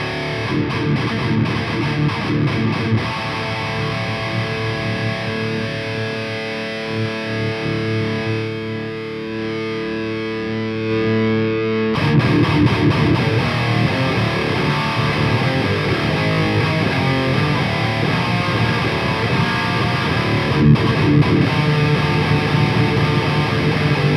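A distorted electric guitar recorded through a dynamic SM57 microphone plays thick, sustained chords and riffs, loud and continuous, with a brief thinner passage midway before the full crunchy tone returns.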